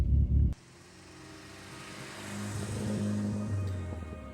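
Volvo 240 wagon pulling away on a drive, a steady low engine hum and road rumble heard from inside the car, building gently in loudness, with no talk over it.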